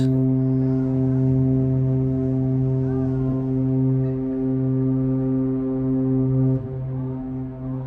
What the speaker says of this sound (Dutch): Onder luid getoeter van de scheepshoorn varen we weg uit Alesund.